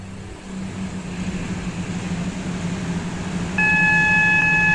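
Train passing through a station in the Roblox game Stepford County Railway, a steady rumbling roar with a low tone that swells slightly, then joined near the end by a bright sustained multi-tone horn.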